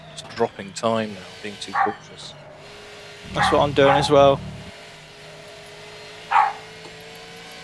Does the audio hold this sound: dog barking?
yes